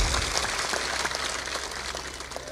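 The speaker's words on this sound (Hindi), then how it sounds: "थोड़ा जोर से ताली बजाए करो।" An audience at a spiritual discourse clapping, a steady patter of many hands at moderate distance sustained throughout.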